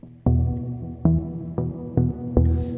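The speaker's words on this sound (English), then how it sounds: "I'm going to add some reverb." A synth through 100% wet reverb plays five sustained, evenly spaced chords, each swelling into a long reverberant wash that fills the gaps between notes, with no voices.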